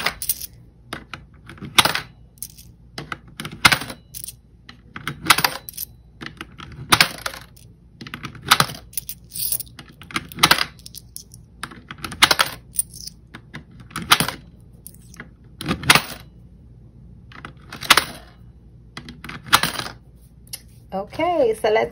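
Silver coins poured and dropped from a home coin jar, landing in repeated sharp metallic clinking bursts every second or so, close and fairly loud, with quieter rattles in between.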